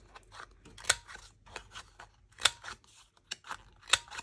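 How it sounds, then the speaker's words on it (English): A paper punch cuts through paper for a handmade book plate, three crisp, sharp snaps spaced a second or more apart, with softer rustling and handling sounds in between. "So we're going to use this punch right here."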